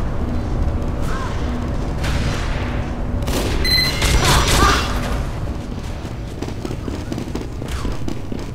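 Gunfire and explosive booms in the video game Team Fortress 2, a dense, steady fusillade of shots with a louder burst near the middle, continuing under faint voices.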